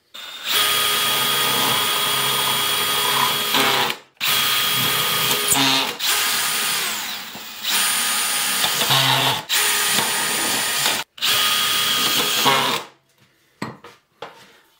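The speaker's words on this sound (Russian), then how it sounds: "Помещаем наш профиль посередине и крепим саморезами." Power drill driving self-tapping screws into a metal profile, heard as five sustained whirring bursts of about one to two seconds each, separated by short pauses, close and loud, followed by a few faint clicks.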